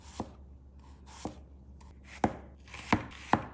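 A knife cuts an onion into thin slices on a cutting board, giving five separate sharp chops spaced unevenly over a few seconds against a quiet, faintly humming kitchen, with no voices.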